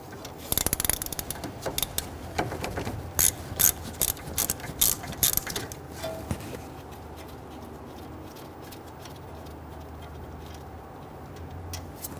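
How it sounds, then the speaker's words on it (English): A ratchet loosens the 13mm brake caliper bolts on a 2010-2019 Ford Taurus with quick clicking bursts of the pawl, close by, then quieter handling noise as the clicking stops. "There are two 13mm bolts, one on top, one on the bottom. You can use a wrench or ratchet. Loosen and remove these bolts"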